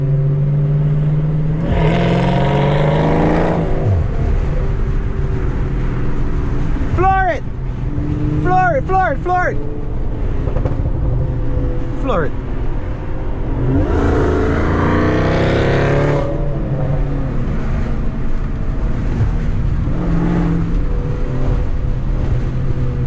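A 2020 BMW M340i accelerates hard at full throttle, its loud engine roar rising in two long surges, with brief tire squeal between and people talking excitedly over the noise.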